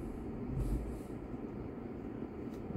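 A passing car on a suburban road in Deer Park rumbles in a steady low roar that swells and eases, fairly close and moderately loud, with no talking.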